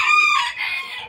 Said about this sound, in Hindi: तो तीनों के तीनों मुर्गे भी बाहर ही हैं जी, इकट्ठे हैं